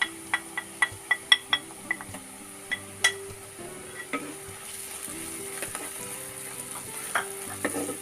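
Chili powders being stirred into a frying pan for a Kerala-style prawn roast, with soft sizzling underneath and a quick run of sharp spoon clinks against the pan early on, then steadier frying with occasional taps.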